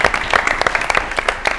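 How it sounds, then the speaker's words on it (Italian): Audience applause at a televised Italian finalists' show, a dense steady crackle of many hands clapping throughout, fairly loud with no talk over it. "grande applauso alle nostre 4 finaliste"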